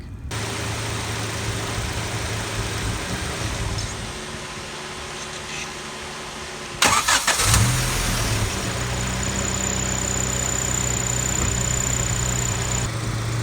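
A turbocharged Honda D16Y7 car engine runs loudly and steadily, then sputters with a brief rough burst from excess fuel pressure before settling back into a continuous drone.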